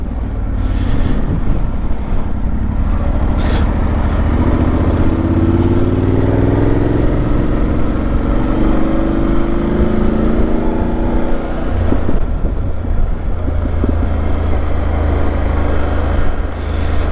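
A motorcycle plods along at about 30 mph with the rider's visor open, giving a loud, steady engine drone buried in heavy rushing wind buffeting close to the microphone, with the engine note rising slightly mid-ride.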